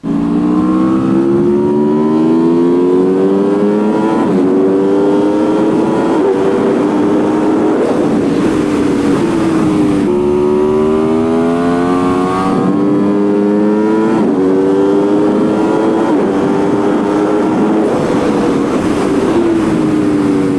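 A motorcycle engine rumbles steadily at idle, then rises and falls in pitch through repeated revs, loud and close with no talking.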